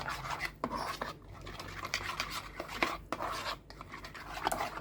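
Ingredients for pan-grilled sea bream are mixed by hand in a bowl, making soft, close rubbing and scraping sounds with a few light knocks against the dish, with no talking.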